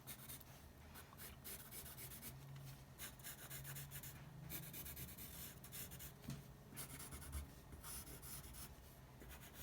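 Pencil graphite rubbing and scratching across paper while shading a jawline on a face drawing, a steady close-up rasp of continuous strokes with no talk.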